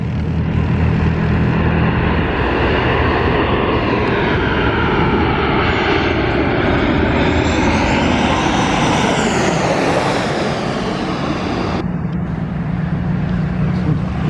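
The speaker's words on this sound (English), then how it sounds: "So here comes the Jet2 737-800 from, I believe, Leeds, this one" A Jet2 Boeing 737-800 comes in to land at Zakynthos, its jet engines a loud, sustained roar with a sweeping rise and fall in pitch as it passes nearby, steady throughout.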